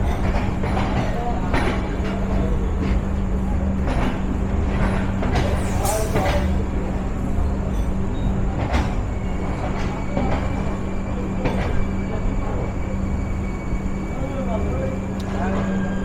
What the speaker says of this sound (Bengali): সম্ভাব্য 4 নম্বর প্ল্যাটফর্মে প্রেস করা হলো মধুমতি এক্সপ্রেসকে।